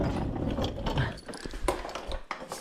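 An engine hoist's ratchet mechanism clicks as a Dodge Charger motor is lowered back down in a garage. Quiet, uneven mechanical ticking and clunks sound close, with no talking.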